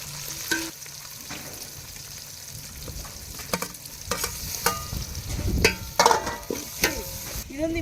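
Hot oil sizzles and crackles steadily with mustard seeds popping now and then, close by, with occasional stirring clinks.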